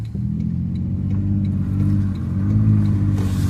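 A single car rumbles steadily along Old Highway 6, a rural road in open country, its mid-pitched engine drone holding close and constant with a slight swell toward the end, no voices present.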